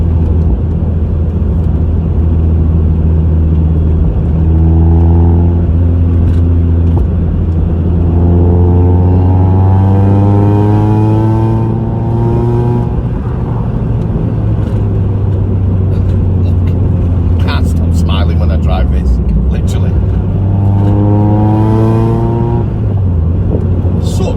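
From inside a Mazda MX-5, the engine drones loudly and climbs through several rising revs between gear changes, a strong rumbling pull repeating as the car accelerates.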